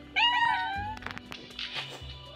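A cartoon cat in the Toca Boca video game gives a short, high meow, followed by soft clicks and light game sounds, quiet and with no talking.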